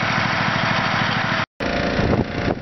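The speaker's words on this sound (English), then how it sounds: "The little generator out, running my air compressor." A small generator drones steadily outdoors while powering an air compressor, a loud continuous buzzing engine note that cuts out for a moment and then resumes.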